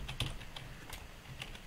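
Quick bursts of typing on a computer keyboard as localhost is entered into a browser, close and fairly quiet clicks in a short irregular run with pauses.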